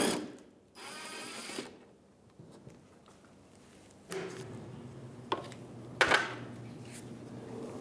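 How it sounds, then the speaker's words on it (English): A ratchet with a 10mm socket backing out a bumper bolt on a 2015-2019 Hyundai Sonata, heard as a few short, quiet clicking runs separated by pauses and small knocks, close by. "So we're going to use a 10mm socket and take that bolt out."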